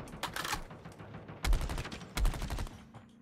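Gunfire from a gun in the Call of Duty Mobile video game rattles out in rapid bursts: a short volley near the start, then two louder, punchy automatic strings, fairly close and sharp.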